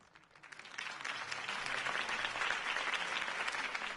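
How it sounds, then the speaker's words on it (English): Crowd applause at a political campaign rally in Batman: The Telltale Series, steady dense clapping that swells in after a quiet start and holds at moderate level, with no talk. "If only Mr. Wayne, my campaign's largest backer, could have heard that applause"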